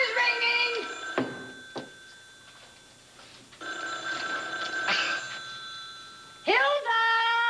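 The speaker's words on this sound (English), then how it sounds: "The phone is ringing!" A telephone bell rings in short repeated bursts, loud and close, alternating with voices and quiet gaps as people call out in a house.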